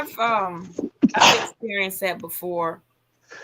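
A single sharp sneeze bursts out briefly in the middle of conversational speech, with people talking before and after it at close range.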